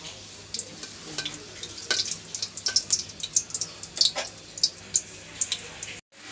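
Dried red chilies crackle and spit in hot oil, giving sharp irregular pops and a light sizzle that grow busier over a few seconds before cutting off abruptly, close and fairly quiet.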